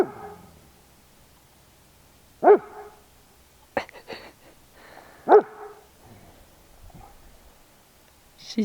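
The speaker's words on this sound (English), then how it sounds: "She is such a good guard dog." A guard dog on a rural off-grid property during house excavation gives two sharp, loud barks a few seconds apart, with faint scuffling and a brief voice in between.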